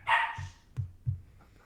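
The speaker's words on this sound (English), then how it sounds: "that's the puppy" A puppy gives a few short, soft yips and barks spaced about a third of a second apart, fairly close but quiet, after a brief higher-pitched squeal at the start.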